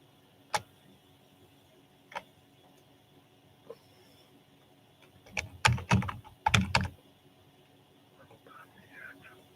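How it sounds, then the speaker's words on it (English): Typing on a computer keyboard: a few isolated key taps early, then a dense burst of rapid keystrokes in the middle, close and clear against a quiet room. "let me type in one thing"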